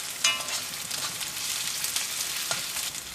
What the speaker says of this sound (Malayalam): ഇനി ചുവന്നുള്ളി നന്നായിട്ട് മൊരിയുന്ന വരെ നമുക്കൊന്ന് വഴറ്റിയെടുക്കാം